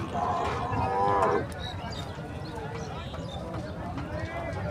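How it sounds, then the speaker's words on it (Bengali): A male buffalo at a busy Indian buffalo livestock market gives a low, drawn-out moo-like call, followed by the steady murmur of people talking around it. "পাঠা মহিষ।"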